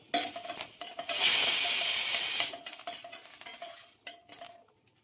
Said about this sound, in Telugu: కరివేపాకు, పచ్చిమిరపకాయలు వేసుకోవాలి.